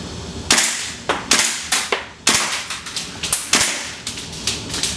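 A string of sharp, snappy gunshots with a mechanical clack from a WE Tech SCAR H gas blowback airsoft rifle, fired in quick irregular bursts, close and loud, with no talking.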